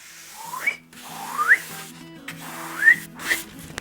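A person whistles a few short rising, sliding notes in separate phrases with pauses between them, close and clear, with no talk.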